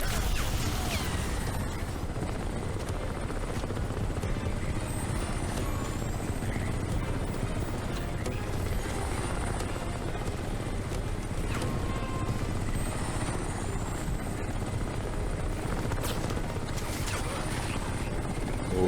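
Helicopter rotor noise in the video game Crysis Remastered, a steady broadband whir that fills the entire stretch at constant loudness, with faint game effects mixed in.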